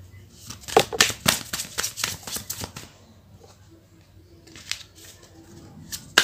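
Tarot cards being shuffled and pulled from the deck, a run of crisp riffling snaps up close for about three seconds, then quieter handling and a few more card flicks, with no talking.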